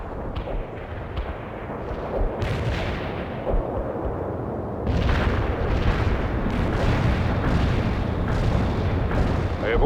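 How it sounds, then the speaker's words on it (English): An artillery strike in the World in Conflict video game sends repeated heavy booms and rumbling explosions over continuous battlefield noise, loud and overlapping, with a sharper burst of blasts partway through and faint radio voices in the mix. "Artillery strike on the way"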